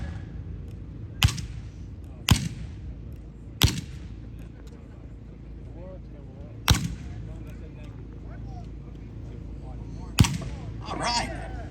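Six sharp, loud shots ring out one at a time at uneven intervals from an 1860 Army Colt revolver fitted with a shoulder stock, fired outdoors at a gun show demonstration, with quiet background voices between reports.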